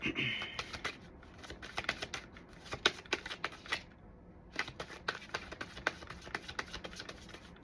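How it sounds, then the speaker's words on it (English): Tarot cards being shuffled by hand, a run of crisp riffling slaps and flicks in an irregular rhythm, close and steady with a short pause midway, with no talking. "They say stop shuffling"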